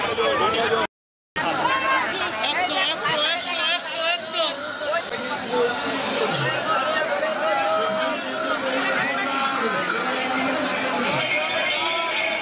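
Dense crowd hubbub at Sheoraphuli junction railway station during the Tarakeswar pilgrimage, a steady wash of many voices, footsteps and shouts, with a brief silent gap near the start.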